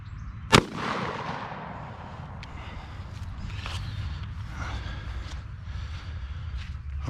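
A Maverick 88 cruiser shotgun fires one loud, sharp blast of number 3 buckshot at 5 yards, followed by a brief echo and then rustling, wind-like outdoor background with no speech.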